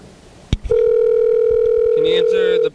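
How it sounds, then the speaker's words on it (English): Telephone ringing at a McDonald's, a steady loud electronic tone lasting about two seconds after a sharp click, then shifting pitch briefly before cutting off. "Listen to the phone ring."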